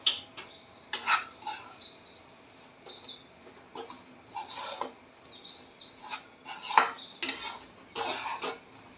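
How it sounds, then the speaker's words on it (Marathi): Metal spoon scraping and clinking against a metal wok of roasted moong dal flour, stirred with the gas off, in irregular bursts, a dry stirring rasp close by with no talking. "गॅस बंद केल्यावर सुद्धा मी हे असं थोडंसं परतून घेते"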